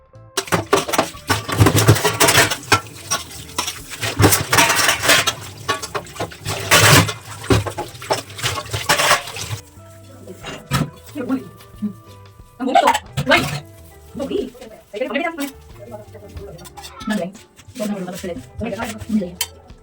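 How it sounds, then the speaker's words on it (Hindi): Dishes, including milk pans, are being washed by hand in a home kitchen, with clattering pots, running water and scrubbing, louder and busier in the first half, then intermittent clinks and splashes. "गैस को साफ करके जो भी बर्तन वगैरह थे दूध के, सारे मैंने उस साइड कर दिए और अभी धो लेते हैं बर्तन।"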